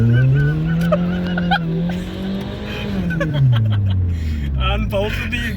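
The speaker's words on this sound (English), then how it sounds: "unbolted the exhaust and now it sounds like a race car" A Toyota Corolla with its exhaust unbolted revs loudly, the engine note rising and falling like a race car, close by, with people talking over it.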